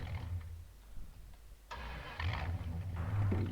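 A car engine, about 5 litres, cranks and catches, then settles into a rough idle close by, growing louder toward the end.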